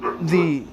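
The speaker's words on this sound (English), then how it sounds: "Sorry guys, that was my dog." A dog whines in one short, close, rising-and-falling cry, brief and loud with a wavering pitch.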